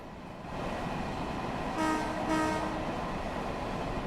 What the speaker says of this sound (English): this is the M3. So this is the older train running on the Harlem Line.